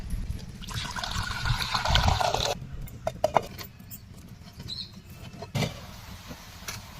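Water trickles and splashes into a pot for making moringa leaf tea for a couple of seconds, followed by quieter clinks and small kitchen noises.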